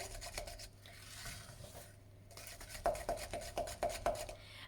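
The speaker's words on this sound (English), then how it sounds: "Keep on scraping as you go." A spatula scrapes cake mixture for melting moments biscuits from the sides of a mixing bowl, first with soft rubbing and then with a run of five quick, close scrapes. The scraping is fairly quiet and no one talks.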